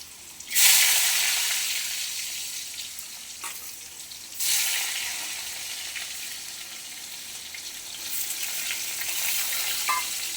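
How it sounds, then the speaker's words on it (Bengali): Thick potato slices frying in hot oil, a loud continuous sizzle that surges when pieces go in, eases briefly, then flares again and holds steady, close and alone without talk. "এই আলু ভাজা মোটা মোটা করে ভাজতে তো, এগুলো বেশি লাল হবে"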